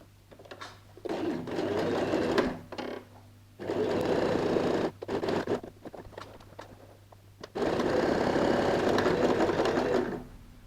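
A sewing machine stitches a handbag seam, starting and ending with a back stitch, in three close-up bursts of rapid mechanical whirring separated by short pauses.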